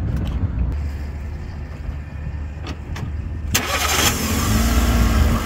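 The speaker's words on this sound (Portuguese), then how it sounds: "O amigo vai dar partida para a gente escutar aqui o ruído do motor." A used Fiat Uno at an outdoor used-car fair cranks and fires up, the engine catching after a brief starter whir and settling into a steady, fairly quiet idle.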